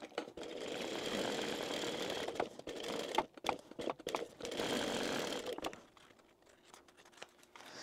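A sewing machine stitches around the edge of a fish-shaped zip pouch with a clear glitter panel, running in steady bursts with short pauses between, close and fairly loud, with no talking.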